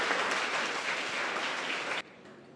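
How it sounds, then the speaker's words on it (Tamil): An audience at a Pongal special pattimandram stage debate gives a loud, dense round of clapping for about two seconds, which cuts off abruptly into quiet. "உங்கள் பலத்த கரகோஷத்தை எதிர்பார்க்கிறேன்"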